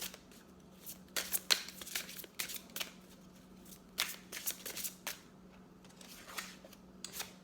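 Tarot cards are shuffled close up in a quiet room, a run of crisp riffling and slapping bursts recurring every second or so over a low steady hum.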